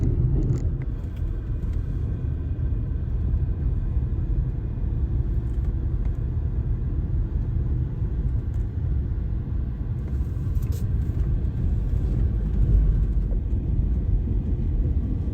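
A combine harvester cutting green soybeans gives off a loud, steady, deep mechanical rumble and drone that runs without a break from start to finish, heard close with no talk.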